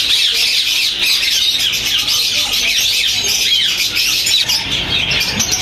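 Ring-necked parakeets call at a busy bird market, a dense, loud mix of shrill squawks and chirps from many birds overlapping continuously.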